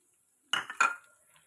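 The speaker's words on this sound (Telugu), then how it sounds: "ఇప్పుడు కప్పు ధనియాలు యాడ్ చేసుకోవాలి." A cup of coriander seeds tipped into a frying pan where curry leaves are roasting, giving two quick rattling pours with a light scraping tail, close and distinct with no talk.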